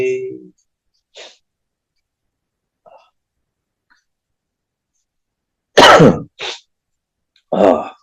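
Several short, sharp coughs and throat-clearing bursts, scattered across a quiet stretch, with a louder cluster of harsh coughs near the end.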